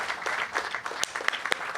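An audience claps at an outdoor ferry renaming ceremony, a steady patter of many hands at moderate volume in a short burst.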